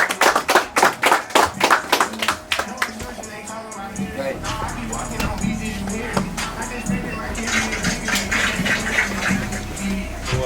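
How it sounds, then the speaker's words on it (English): Audience at a class event applauding a guest, opening with a run of loud, evenly spaced rhythmic claps that give way to a denser, blended wash of applause and crowd noise. "So we give a round of applause to my guy Trozie."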